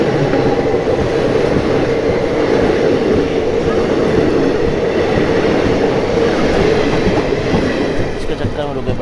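Harihar Express train rumbling steadily past at close range in the dark, a loud continuous roar of wheels and carriages with faint rhythmic clatter throughout.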